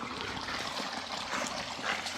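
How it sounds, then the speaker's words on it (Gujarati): Water draining out of a bath tank on a farm, a steady trickling, gurgling flow close by with a few louder splashy surges, continuous throughout. "અહીંયા અત્યારે બાથ ખાલી થવાનું શરૂ છે"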